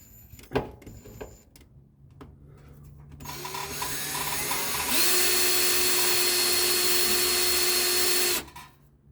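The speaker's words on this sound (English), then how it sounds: "So let's get drilling." A power drill whines loudly and steadily for several seconds during a fuel pump install, after a few knocks and handling noises, then stops abruptly.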